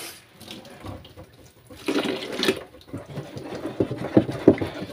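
Water pours and splashes into a homemade multipurpose cleaning mixture, heard as irregular gurgling bursts, quiet at first and growing louder and choppier toward the end, with no talking.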